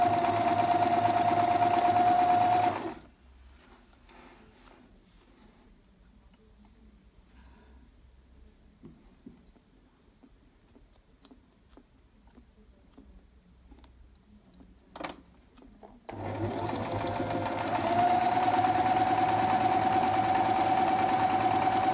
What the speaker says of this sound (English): So now I am going to sew both ends together of the fabric.